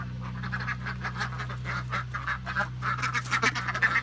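Foreign-breed laying ducks call in a steady run of harsh, honking quacks, fairly close and loud over a constant low hum, with no talk.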